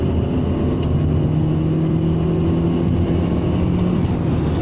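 Rover 600ti turbo car engine pulling in third gear, a loud sustained drone with a steadily rising tone, heard from inside the car without pauses.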